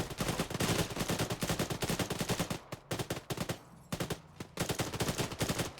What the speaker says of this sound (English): that was a 40mm launcher